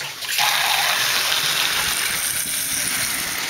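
Clean water gushes steadily into a container for a homemade aquaponics pest spray, a close, continuous rushing pour that starts abruptly and runs without pause.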